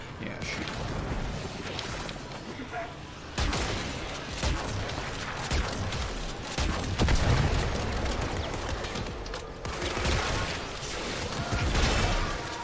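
Rapid gunfire and explosive bursts from a Warframe bounty mission in Fortuna, dense and continuous throughout, layered with game effects while a player talks over the action.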